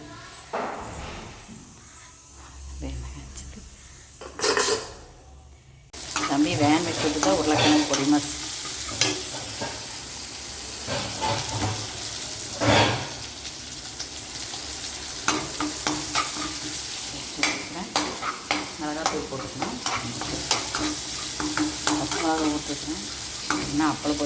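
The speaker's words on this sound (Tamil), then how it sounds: "இப்போ தான் அப்பளம் பொறிக்கலான்ட்டு எண்ணெய் இருக்குது" Appalam (papad) frying in hot oil in a home kitchen, a steady loud sizzle with crackling bursts running nearly throughout, after a quieter opening stretch.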